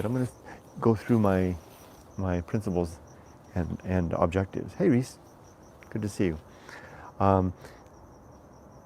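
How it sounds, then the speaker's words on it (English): Crickets chirp steadily through an evening outdoors, a thin, continuous high trill running beneath someone talking nearly the whole time. "Lovely hearing the crickets chirping in the background."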